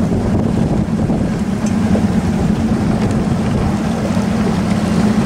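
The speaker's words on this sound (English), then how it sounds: "Getting ready to idle out of our channel here." A Boston Whaler's motor idles with a low, steady hum as the boat moves slowly out from a dock through a channel, mixed with wind and water noise and no talk.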